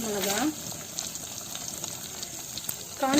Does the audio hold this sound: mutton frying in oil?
yes